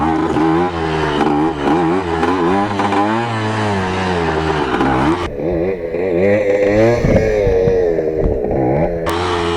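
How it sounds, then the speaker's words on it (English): Small Kawasaki KE100 motorcycle engine held at steady revs with wavering pitch as the rider balances a wheelie, loud and close throughout, with a brief dip and surge near the end. "Let me see if I can hit a balance point wheelie."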